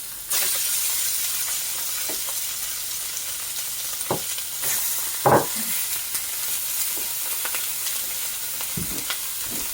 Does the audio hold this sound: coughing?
no